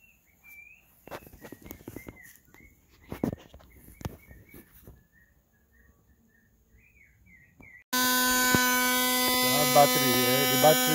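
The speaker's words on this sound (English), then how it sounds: "the popular 775 motor. It runs at high speed from 12 volt." A 775 DC motor running at high speed on 12 volts from a battery, starting abruptly partway through as a loud, steady high-pitched whine after quieter bumps, chirps and handling noises.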